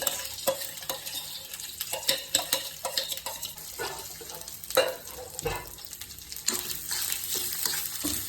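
Continuous sizzling as chopped coconut roasts in ghee in a hot pan, with frequent scraping and stirring strokes, a busy dry crackle that stays steady throughout, no voices.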